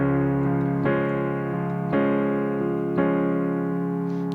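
Solo piano plays a slow ballad figure in 6/8 time, a lilting pattern of sustained chords struck about once a second, close and clear with no voices.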